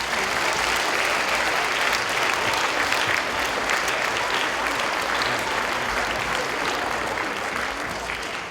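A crowd at a school Veterans Day ceremony gives loud, sustained applause to welcome the Operation G Club onstage, the clapping dense and even before it eases slightly at the end.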